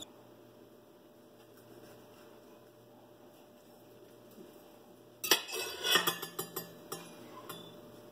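A quiet background hum gives way to a knife cutting into a tomato, with a sudden crisp slice followed by several softer cutting and tapping sounds on a board, close and brief.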